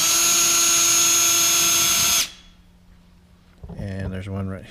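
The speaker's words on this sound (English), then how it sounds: "we're just going to take the screws out" Power drill backing screws out of a wooden utility pole during repair: a steady, close mechanical whine runs for about two seconds, cuts off, and then someone speaks.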